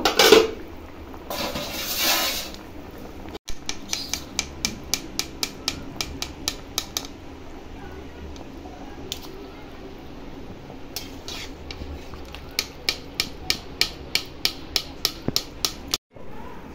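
Boiled jackfruit and potatoes strained through a sieve: a short rush of draining water near the start, then runs of light, rhythmic clinking taps against the strainer, close and fairly quiet, with no voices.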